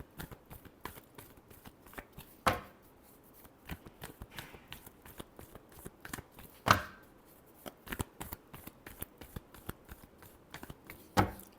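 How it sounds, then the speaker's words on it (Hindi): Tarot cards are shuffled close up in a rapid run of soft papery riffles punctuated by a few sharp slaps, with no talking. "last shuffle"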